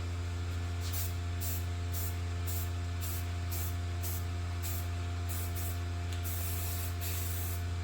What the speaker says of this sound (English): All right, let's throw some paint down.